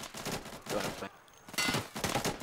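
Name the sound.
gunfire in the video game Insurgency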